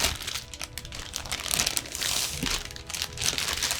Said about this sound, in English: Let's get you unwrapped.